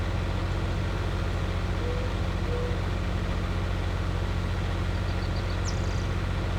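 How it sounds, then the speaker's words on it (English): Video game tractor engine labouring uphill at walking pace while pulling a Joskin trailer, a steady low droning rumble with no change in pitch, close and continuous. "This is definitely a gutless tractor."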